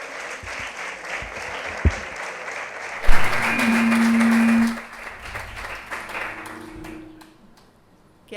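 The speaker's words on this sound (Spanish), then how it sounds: "yo pediría un aplauso para ellos" An audience at a talk on unwanted loneliness and support networks for older people breaks into applause, a brief ripple of clapping that swells into a loud sustained round, then fades and stops.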